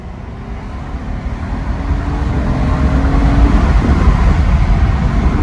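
A 2007 Honda Accord EX-L V6 pulling hard in second gear, the engine drone rising steadily in pitch and loudness from inside the car with no talking.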